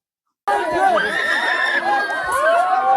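A crowd of many voices shouts and wails together, loud and close, with raised cries overlapping without a break.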